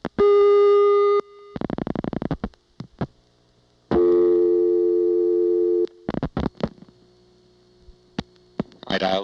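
Telephone call from 236 to 236 through a 1982 Siemens motor switch exchange near Ocala, Florida: long steady tones alternate with bursts of rapid clicking and ratcheting pulses, then scattered clicks and a short buzzing tone at the end.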